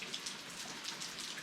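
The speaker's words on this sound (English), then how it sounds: "It's been raining on and off" Rain falls outside on a wet day, a steady soft patter of drops with faint irregular taps, close and even throughout.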